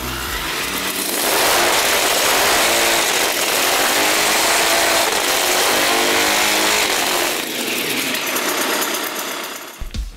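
A homemade multi-cylinder motorcycle built around Piaggio 125cc two-stroke engines revs hard, giving a loud, buzzing, sewing-machine-like drone that holds for several seconds, then dips and sputters to a stop at the end.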